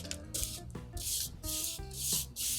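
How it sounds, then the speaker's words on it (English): A small cast kit part is rubbed back and forth on 220 grit sandpaper, giving four or five bursts of close, raspy scraping separated by short pauses, with no talking. "I'm just going to run it on a piece of sandpaper. I just have some 220 here."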